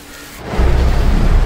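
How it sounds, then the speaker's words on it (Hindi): Heavy monsoon rain in Mumbai swells into a loud, dense roar of downpour that sets in abruptly and continues steadily, close and without voices. "क्या मस्त बारिश हो रही है यार।"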